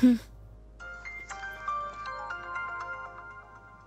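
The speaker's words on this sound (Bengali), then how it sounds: "আবার ফোন এসেছে" A phone rings with a bright electronic ringtone melody that starts after a brief, loud voice at the very beginning, then carries on at moderate volume in an indoor scene from a dubbed drama.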